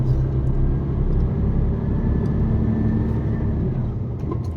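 A truck pulls away at a border crossing in Poland just after the barrier lifts, its engine rumbling steadily and close throughout, with a faint voice briefly audible.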